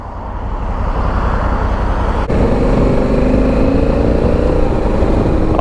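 A DCT automatic motorcycle rolls along at a slow pace, its steady engine drone close and continuous, with a slight shift in tone partway through and no talking.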